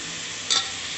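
Bitter gourd and potato fry in a pan, a steady hiss of frying with one short, brighter burst of stirring or sizzle in the middle, close and alone without voices.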